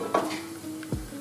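Onions, celery and carrots sizzle softly in olive oil in a pan, with a couple of brief stirring scrapes over a steady low frying hiss.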